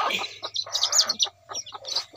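Busy chirping and clucking from a hen with newly hatched chicks, close by, in quick overlapping calls with brief pauses.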